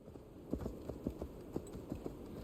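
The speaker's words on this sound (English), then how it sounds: "horse is all slow because it's going uphill." Horse hooves clip-clopping uphill at a slow pace in the video game Assassin's Creed Valhalla, a steady rhythm of soft, muffled hoofbeats over a faint background hiss, no talking.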